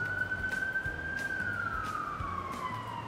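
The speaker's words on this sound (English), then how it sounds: "I don't know if you guys can hear the ambulance and the firefighters, but it sounds like something crazy is going on." Emergency sirens from an ambulance and fire truck pass outside, one steady wailing tone slowly rising then falling as the vehicles move by, heard from indoors at moderate distance over faint background hum.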